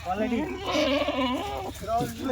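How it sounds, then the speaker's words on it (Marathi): Kathiawari goats bleating in a repeated, wavering run at close range at a goat shed, with a person talking over and between the calls. "अजून भरपूर शेळ्या आहेत तुम्हाला तिकडे बघायला भेटतील"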